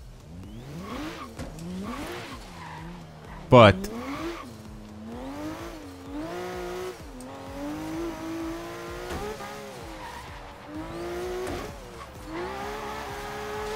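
Forza Horizon 3 car pulling away from a standstill, engine revving up through rising harmonic sweeps with a sharp burst of tire squeal early on, loud and close, with a brief voice at the start.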